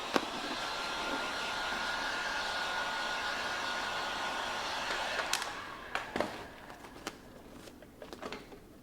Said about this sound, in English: I'm just going to apply some heat just to make it a little quicker and easier.